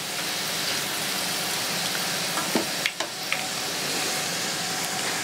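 Mama instant noodles deep-frying in hot oil until crisp and golden, a steady dense sizzle and crackle throughout with a few brief sharper clinks, and no voices.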